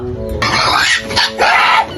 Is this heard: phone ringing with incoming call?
no